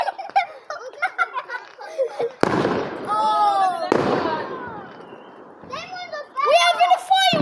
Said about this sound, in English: We're having a fireworks competition.